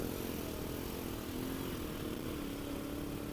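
A motorcycle engine runs near a rocky river crossing in the Kalinga mountains, a steady, loud, rough drone mixed with rushing water noise and no talking.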